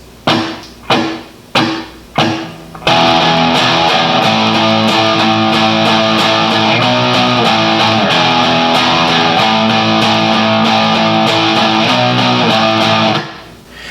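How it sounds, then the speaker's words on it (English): Distorted electric rhythm guitar plays the main hook of a song: four sharp muted power-chord hits on E, then a loud sustained run of chugging chords, played alone. "Now the rhythm guitar in that main hook is going to sound like this."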